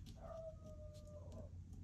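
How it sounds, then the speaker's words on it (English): A neighbor's dog howls outside, one drawn-out wavering howl lasting about a second, faint and distant over low background hum. "oh, neighbor dog's outside."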